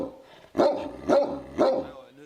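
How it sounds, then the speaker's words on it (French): Protection dogs kept for guarding livestock against wolves in the Vosges bark three times at a steady rhythm, loud and fairly close, with faint background noise between barks. "Depuis le retour du loup, Jean-Yves Poirot s'est muni de chiens de protection"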